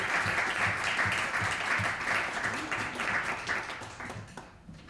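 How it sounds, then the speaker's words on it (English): A round of audience applause at an evening panel discussion in a hall, steady dense clapping from a seated crowd that gradually fades out near the end. "So please give them both a round of applause, and we'll welcome Kirsten to the podium."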